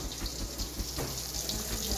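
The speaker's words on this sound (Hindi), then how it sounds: "बाउल में ही हमने थोड़ा सा पानी डाला है, बस इतना सही हमें पानी ऐड करना है इसके अंदर इस तरह से।" Water is poured from a bowl into a cooking pot of marinated chicken tikka masala, making a continuous close splashing gush with a slight gurgle, fairly loud and steady from start to finish.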